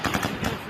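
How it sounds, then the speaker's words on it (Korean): Gunfire during anti-government protests in Kazakhstan, heard as a rapid, dense burst of repeated shots that is loud and continuous through the whole short moment. "총소리는 끊이지 않습니다"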